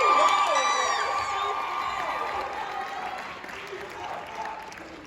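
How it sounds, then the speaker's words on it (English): Applause mixed with whoops and cheers rises from a crowd at a Pilipino Culture Night show for director Frankie, loud and lively at first, then tapering into a softer ongoing patter. "Can we give another round of applause for Frankie?"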